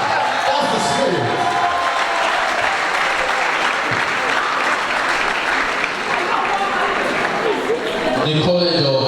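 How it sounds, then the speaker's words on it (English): A large audience of parents claps steadily and continuously at a university anniversary ceremony, with crowd voices mixed into the sustained applause. "So parents, clap for your children."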